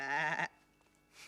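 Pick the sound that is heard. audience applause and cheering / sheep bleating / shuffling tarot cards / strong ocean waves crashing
sheep bleating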